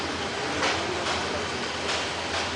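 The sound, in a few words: train arriving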